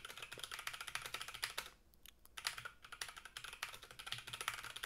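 Rapid typing on a computer keyboard while writing a chat message, quick irregular key clicks close up with a brief pause near the two-second mark before the tapping resumes.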